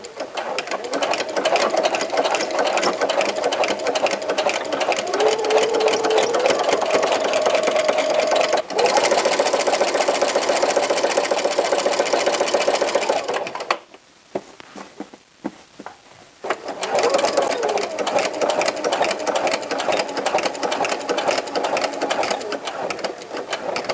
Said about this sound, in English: then we're just going to stitch all the way around